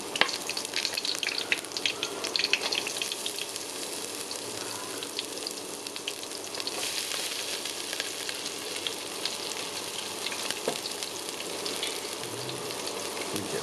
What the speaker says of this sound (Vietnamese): Mình sẽ phi nó thơm lên.